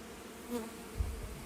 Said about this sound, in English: A lot of the bees are flying around.